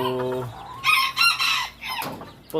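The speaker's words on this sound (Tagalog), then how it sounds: "Siyempre meron siyang kasamang hen" A hen clucks close by in a few short, sharp bursts, with a brief harmonic call at the start, loud against a quiet background.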